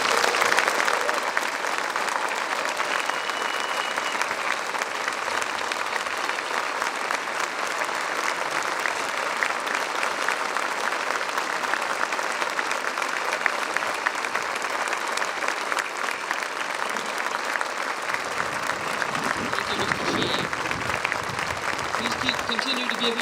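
A crowd at the 75th anniversary D-Day ceremony at the American Cemetery at Omaha Beach keeps up dense, sustained applause throughout, an even roar of many hands clapping.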